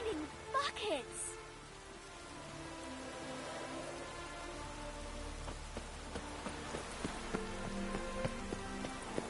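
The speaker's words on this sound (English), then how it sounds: "It's raining buckets!" Steady heavy rain pours down in the video game The Witcher 3, a constant wash of noise with scattered drops and a few faint low knocks.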